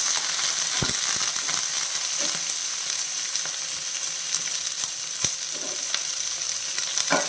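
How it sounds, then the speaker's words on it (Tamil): Garlic, green chillies, onion and curry leaves fry in a pan for a roasted-gram tiffin sambar, a continuous close sizzle broken by sharp spatula scrapes and taps, with no talking. "பூண்டை சேர்த்துடலாம் பச்சை மிளகாய் வெங்காயம் எல்லாமே சேர்த்து வதக்கிடலாம்"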